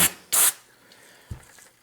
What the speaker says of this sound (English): Spray it off, and I mean, it really just takes everything off of there.